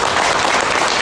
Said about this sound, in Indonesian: Tepuk tangan dulu buat Hers.